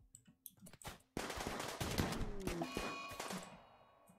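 Rapid bursts of gunfire in the colony-building video game RimWorld, a few isolated shots first, then a dense sustained volley of crackling shots that fades out, with no talking over it.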